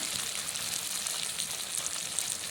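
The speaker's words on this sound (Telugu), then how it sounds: "కొంచెం ఫ్రై చేసుకున్నాం. ఇంకా అలా ఫ్రై చేసుకోవాలి చక్కగా." Pieces of liver frying in a pan with amaranth greens, a steady soft sizzle of hot oil throughout, close and even with no voices.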